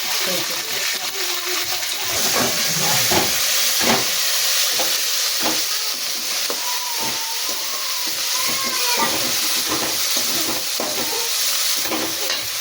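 Onions, garlic and curry leaves sauté in a pan for a chutney, a continuous oily sizzle with repeated spoon stirs and scrapes, close and steady.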